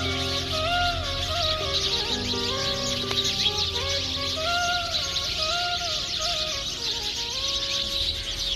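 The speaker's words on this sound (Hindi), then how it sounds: "ऊपर दरख्त पे बहुत सारी चिड़िया बैठी हुई है जो बहुत शोर कर" A dense chorus of many birds chirping and twittering together in a tree overhead, steady and fairly loud, overlapping calls with no pauses.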